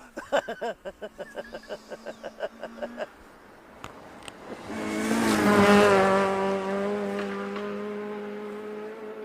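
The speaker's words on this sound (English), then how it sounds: "look how quick that wee car's going" A rally car on stage SS7, Little Balloch, in the AAG SRC event: a rhythmic pulsing engine note, then a loud, rising roar as the car races past at speed, fading while the engine still sounds.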